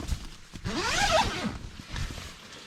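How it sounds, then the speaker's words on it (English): The zipper on a FSR rooftop tent is drawn open in one long, close rasping pull lasting about a second, followed by quiet rustling. "You can open up the zipper and just have the netting"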